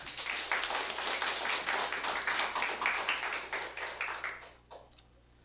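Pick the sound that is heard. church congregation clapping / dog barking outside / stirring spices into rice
church congregation clapping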